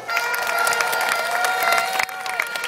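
A crowd at a political rally in Pahang claps steadily and densely, with cheering mixed into the sustained applause before it dips slightly near the end.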